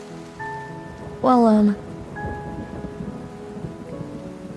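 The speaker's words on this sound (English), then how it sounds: "Whoa, it's raining harder." Heavy rain hisses steadily under a voice speaking over the scene, with a low thunder rumble rolling beneath the downpour.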